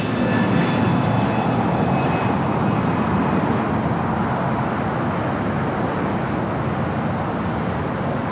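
A Boeing Dreamliner jet roars loudly and steadily during takeoff at LAX, a broad continuous engine rumble with a faint high whine holding for the whole stretch.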